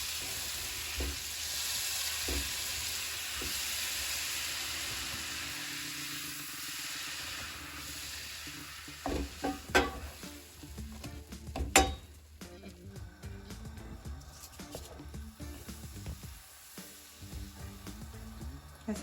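Wheat flour and butter roast in a pan over a medium flame, giving a soft steady sizzle with scraping stirs and a few clinks of a utensil, someone speaking faintly now and then.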